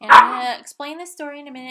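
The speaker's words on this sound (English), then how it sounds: "I'm sorry if you hear the dogs growling" Dogs bark and growl indoors, a loud yelp at the start followed by strained whining growls, while someone talks close by.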